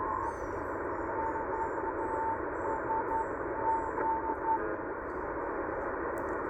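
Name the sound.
Morse code station ID on shortwave radio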